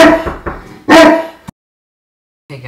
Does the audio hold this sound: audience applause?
no